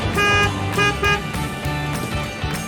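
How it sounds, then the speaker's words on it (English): Horn toots of a dump truck at a construction site, repeated loud honks over a running engine rumble, with no talking. "Dump truck."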